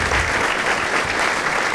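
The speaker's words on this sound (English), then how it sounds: "Another round of applause." Steady applause from a crowd, dense and sustained clapping filling the whole moment without pause.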